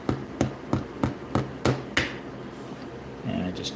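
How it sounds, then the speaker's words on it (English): A small hammer taps on a vehicle axle resting over a hard surface, giving seven light, evenly spaced metallic taps followed by quieter shop noise. "I take my axle, put it over it, I get a little hammer,"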